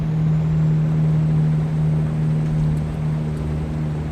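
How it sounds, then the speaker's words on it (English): Truck engine in the American Truck Simulator video game, played through speakers and picked up by a microphone: a steady, loud droning hum with a constant low tone throughout. "the mic's picking the engine up through the speaker"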